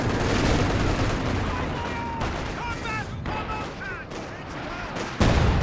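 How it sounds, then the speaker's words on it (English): Battlefield gunfire in Company of Heroes 2, a dense rattle of distant shots and booms rolling continuously, ending with a sharp louder mortar blast near the close. "It's a big shot from the mortar."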